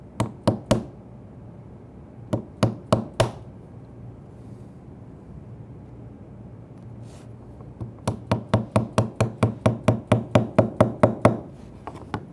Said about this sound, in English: connect the dots with a narrow chisel that'll fit in the dado.